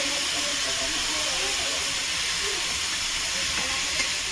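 Beets frying and steaming in a pan, a steady loud hiss with faint sizzle running unbroken from start to finish.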